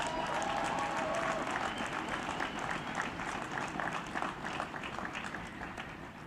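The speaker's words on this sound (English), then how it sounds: "Please join me in applauding these great people who made this a reality." A college commencement audience applauds the event staff at an outdoor ceremony, a broad sustained wave of many hands clapping that gradually tapers off, with a few cheers mixed in.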